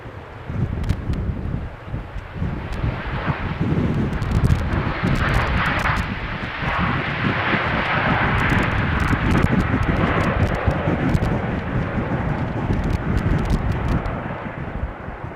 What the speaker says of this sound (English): third one is going to be an Airbus 220